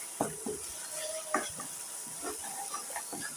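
Ground spices and garam masala are stirred and fried in a pan for a chicken curry with jackfruit seeds, giving a soft sizzle under intermittent scraping and clinking of a spoon against the pot.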